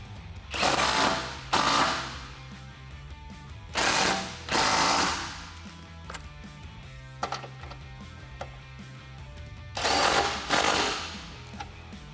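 A power tool tightens lug nuts on a Jeep Wrangler JK wheel in five short, loud bursts separated by quiet pauses.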